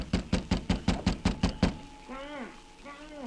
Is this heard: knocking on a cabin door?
yes